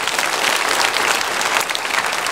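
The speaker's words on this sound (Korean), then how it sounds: "새 가족을 박수로 환영하겠습니다" A church congregation at a Sunday worship service bursts into steady, full applause to welcome new members, the dense clapping filling the room evenly throughout with no talking over it.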